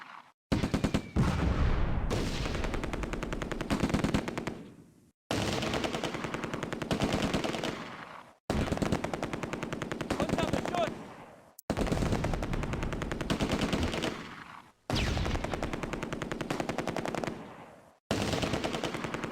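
MG42 machine gun fire in the Close Combat war game comes as several long, loud, rapid bursts, each lasting a few seconds and separated by brief silences, with no speech.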